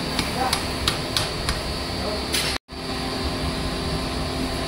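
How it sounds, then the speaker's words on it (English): Several sharp metallic hammer taps spaced about half a second apart, driving a new oil seal into a 2019 Bajaj Dominar 400 motorcycle fork, ringing over a steady hum, then a brief dropout. "Now we'll hammer it a bit."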